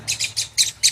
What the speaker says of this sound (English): Birds are fighting. They're dive bombing each other.